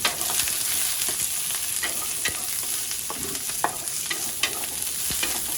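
Onions frying in a pan after lemongrass, a continuous bright sizzle with scattered pops and light scraping as they are stirred.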